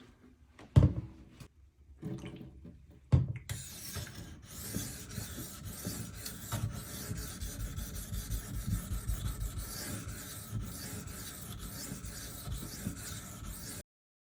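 A knife blade rasps back and forth on a Shapton Pro 1000 grit whetstone, two sharp initial strokes followed by continuous close, rhythmic scraping that stops abruptly near the end, no voices.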